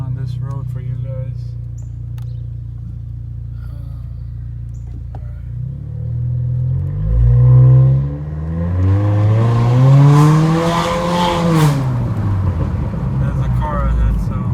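A 2018-2020 Honda Accord Sport 1.5T with a K&N high-volume air intake idles quietly, then accelerates hard on a road. Rising intake whoosh and engine tone climb and fall through gear changes, with talking heard under the sound.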